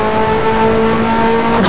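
Nissan 180SX tuned to about 450 horsepower in the racing game Assetto Corsa, a loud sustained engine drone at steady high revs, with no voices over it.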